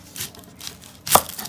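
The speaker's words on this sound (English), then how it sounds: "I like to use a red onion for that. And so I'm just going to cut this into a really" A knife chops through a red onion on a cutting board for pico de gallo, with three crisp separate cuts. The last stroke is the sharpest and loudest, and nobody talks.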